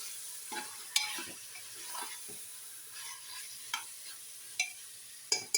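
Chicken frying in hot oil for a rice-based chicken biryani, a soft continuous sizzle with spoon scrapes and clicks as it is stirred, close but fairly quiet.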